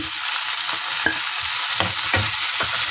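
Chopped onion and garlic sauté in a pan for ginisang ampalaya, a steady bright hiss of frying oil with soft stirring scrapes and taps, close and continuous with no talking.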